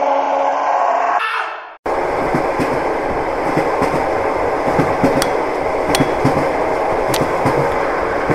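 A passenger train pulls in at a station platform, with a steady loud rumble of wheels on rails and sharp clacks and knocks recurring through the rolling noise after a short burst of other sound at the start.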